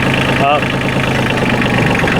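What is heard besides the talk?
Kioti CK27 compact tractor engine running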